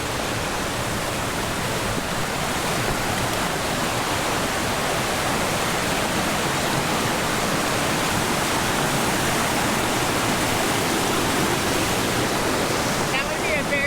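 Rushing stream water roars steadily at a large creek crossing on the Salmon River Trail in the Pacific Northwest forest, a loud, unbroken broadband wash close by with no pauses.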